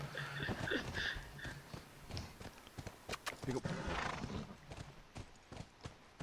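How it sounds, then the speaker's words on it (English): A horse whinnies and snorts over trotting hooves in the video game The Last of Us Part II, with a voice talking alongside and a few sharp thuds. "Did Joel just hit on the horse?"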